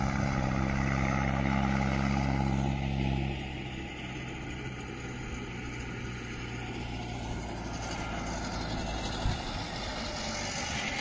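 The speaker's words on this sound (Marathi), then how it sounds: "ऊसाचे ट्रॅक्टर चालले आहेत सगळे." Heavy tractor engines rumble loudly as sugarcane tractors pass close by on a road, then the drone eases into a steadier, lower hum of traffic continuing at a distance.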